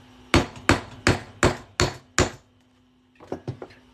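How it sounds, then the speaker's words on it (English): A hammer taps a punch through a quarter coin, six sharp, evenly spaced metallic strikes, then a quieter cluster of lighter taps after a short pause. "Get my handy hammer here, and we'll just"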